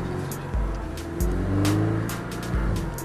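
A Porsche Cayman S is driven on the Castellet driving center track, its engine droning close with repeated surges and shifts as the car accelerates between braking points, with faint tire noise.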